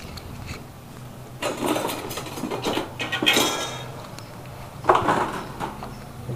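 A utensil stirs a pot of roughly 1.5 litres of salted liquid, giving intermittent scraping and clinking bursts with a louder clatter near the end, close by, over a low steady background hum.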